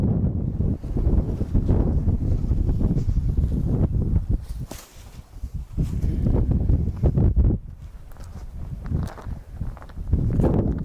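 Gusty outdoor wind buffeting the microphone, a low rumbling roar that rises and dips in uneven bursts, with faint rustling.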